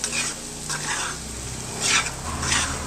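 Moong dal frying in ghee for halwa, stirred steadily in the pan with a continuous close sizzle and scraping strokes that swell briefly, no voices.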